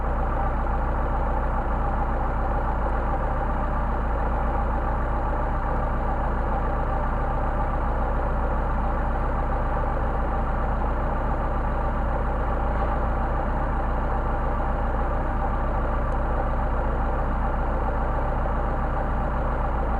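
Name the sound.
Mercedes 190SL engine idling on Solex carburetors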